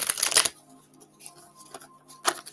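Oracle cards are shuffled in a loud riffling burst at the start, followed by softer scattered card taps and a second crisp flurry near the end, close to the microphone with no talking.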